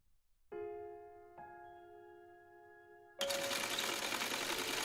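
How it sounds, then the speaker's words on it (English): Sewing machine sound effect in the video game The Hundred Line: Last Defense Academy: steady tonal humming tones, then a sudden loud, continuous whirring rattle that holds to the end. "She was on a sewing machine, working on a piece of clothing."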